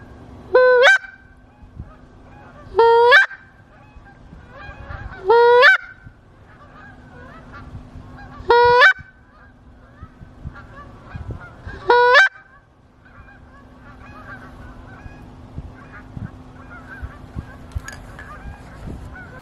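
Geese honking during a duck and goose hunt, about six loud bursts of calling spaced a few seconds apart, quieter pauses between them and the flock falling silent toward the end.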